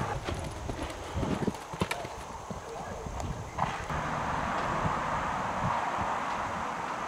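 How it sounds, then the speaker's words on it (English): A five-year-old Irish sport horse mare moves from a walk into a canter, her hooves clip-clopping in a steady rhythm on the ground while a person talks over the sound and wind blows faintly. "She'll strike off to the canter from the walk if you ask."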